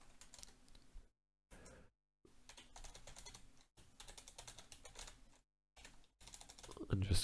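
Quiet bursts of clicking keystrokes on a computer keyboard while code is typed, broken by short silent gaps, with a voice faintly talking over some of the typing.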